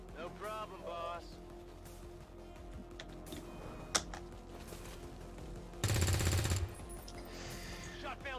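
Gunfire in XCOM 2 comes as a sharp single crack, then a loud sustained burst of automatic fire about a second long, amid quieter game noises and a person talking.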